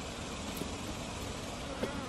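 Bees from a wild beehive give a steady, close buzzing hum that fills the whole stretch, with a few brief louder passes.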